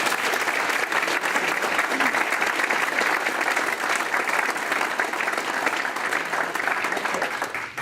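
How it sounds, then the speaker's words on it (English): Sustained audience applause fills an awards ceremony hall, a dense steady wash of many hands clapping at even loudness throughout before tapering slightly at the very end. "Let's give Danielle a big round of applause"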